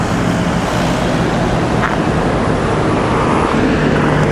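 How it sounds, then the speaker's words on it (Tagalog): Steady, loud roadway rumble from a traffic jam on Maharlika Highway in Luzon, Philippines, a dense broadband wash of idling and creeping vehicles with no distinct passes, continuous throughout. "Traffic jam."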